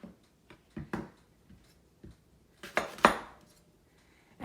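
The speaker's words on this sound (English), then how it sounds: "I just use a regular knife, and I just cut it, just peel it down." A regular kitchen knife peels and cuts an apple, giving a sparse series of soft, close clicks and scrapes, with a louder cluster of cutting sounds near the end.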